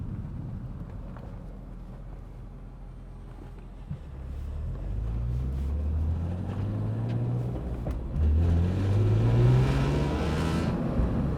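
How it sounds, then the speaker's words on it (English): A BMW M3 E46 with a manual gearbox revs up through rising sweeps, its exhaust note growing louder, with wind buffeting the microphone throughout. "allow you to hopefully hear that exhaust note from the rear camera"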